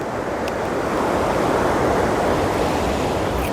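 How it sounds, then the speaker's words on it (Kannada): Gokak waterfall by Godchinamalki village near Belagavi gives a steady, dense roar of falling water, loud and unbroken throughout with no voices. "ಗೊಡ್ಚಿನಮಲ್ಕಿ ಅನ್ನೋ ಒಂದು ಪುಟ್ಟ ಹಳ್ಳಿಲಿ ಈ ವಾಟರ್ ಫಾಲ್ಸ್ ಇದೆ"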